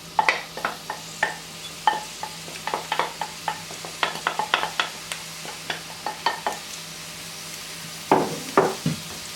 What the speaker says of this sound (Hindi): उसके बाद इसमें हम ऐड करेंगे साथ ही जो कि हरी प्याज है